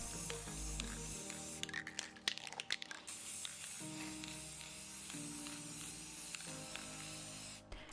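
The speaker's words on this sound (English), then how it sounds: "I am choosing to use a metallic gold spray paint." Bursts of metallic gold spray paint hiss from an aerosol can several times between stretches of steady background music, the spray sharp and close.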